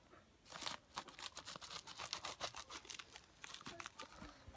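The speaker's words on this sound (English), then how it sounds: "Good thing I have scissors." Scissors cut open a shipping package, giving a quick run of crisp snips mixed with crinkling plastic and paper, close and fairly quiet.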